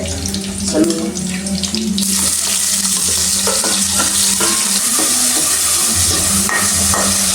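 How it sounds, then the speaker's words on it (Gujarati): Chopped tomatoes drop into a hot pan and begin cooking, a steady close sizzle with scraping stirs and clinks, preceded by a moment of running water and a faint voice. "હવે તો ટમેટા નાખી દઈએ આપણે"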